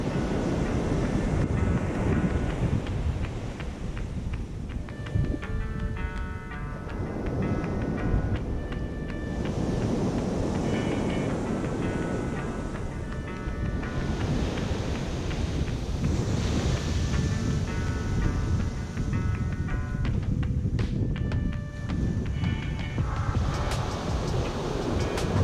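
Strong coastal wind buffets the microphone while ocean waves surge and wash continuously nearby at a rugged blowhole shoreline, a loud unbroken roar with no talking.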